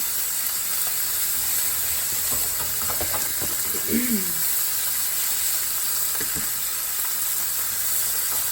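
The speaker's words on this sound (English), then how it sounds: "fry up all my hot dogs" Hot dogs frying in a pan for chili dog grilled cheese sandwiches, a steady broadband sizzle and hiss throughout, with a brief voice-like murmur partway through.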